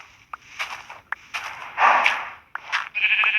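Several sheep bleat in short, close cries, one after another with brief gaps, loud and clear with no talk over them.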